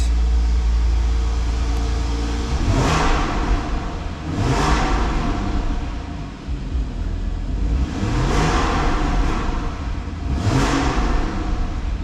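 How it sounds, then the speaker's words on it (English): A Porsche 981 Boxster 2.7 manual's flat-six engine revs from cold, rising and falling in a gravelly bark with several throttle blips over a steady idle rumble. "you can already hear that nice gravelly bark from the flat 6"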